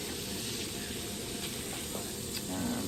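Food for a tater tot casserole browning in a pan, a soft continuous sizzle and hiss with faint occasional stirring, fairly quiet and without talk.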